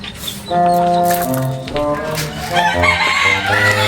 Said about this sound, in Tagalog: Manguhuli tayo ng manok.